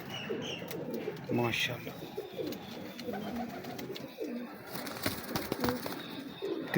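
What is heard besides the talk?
pigeons cooing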